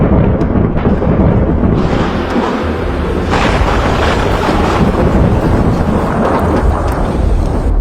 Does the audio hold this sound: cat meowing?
no